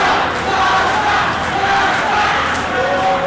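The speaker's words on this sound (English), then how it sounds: "Little dance and the crowd starts chanting." A loud wrestling crowd chants in unison at an indoor show, a sustained, dense roar of many voices with rhythmic rising tones throughout.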